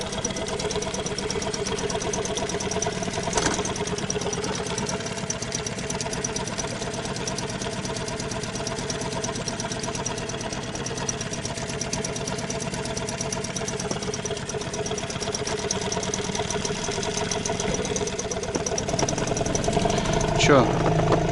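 A new Chinese outboard boat motor idles through its running-in, a steady close mechanical drone with a fine rapid pulsing texture, holding an even level and swelling slightly near the end.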